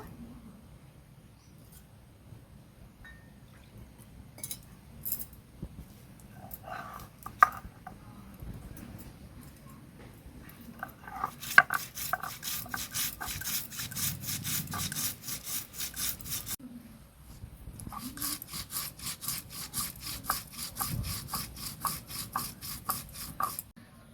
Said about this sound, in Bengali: এখন আমি ধনে জিরে একসাথে বেটে নেব।